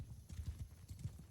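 Cavalry horses gallop across a Mount & Blade 2 Bannerlord battlefield, a quick run of soft, muffled hoofbeats thudding low and fairly faint for about a second and a half, with no talk over them.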